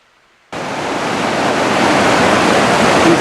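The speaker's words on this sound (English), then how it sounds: "These are the Hardy Rapids. Nice flow of water out here." River rapids at Hardy Rapids in Hayden Valley, Wyoming rush in a dense, steady roar that starts abruptly from near silence and stays loud and close without pause.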